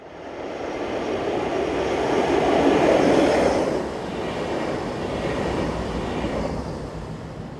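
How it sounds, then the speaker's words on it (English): BLS locomotive 11254 hauls a postal train past on the Thun to Kandersteg line in Switzerland, a broad rolling roar that swells as it nears, then settles into a steady, continuous rumble. "Heading towards the camera is 11254 on postal train PZ 53144 from Brig to Einigen."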